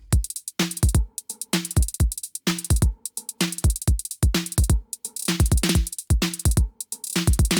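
A punchy programmed trap drum pattern from Cubase loops steadily: booming kicks, crisp hi-hats and snappy hits in a tight, repeating rhythm with no voices.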